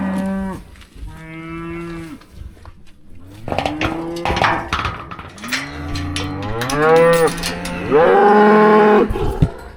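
Several grown farm cows moo loudly and close by, long drawn-out calls following one another and sometimes overlapping, with no talk over them.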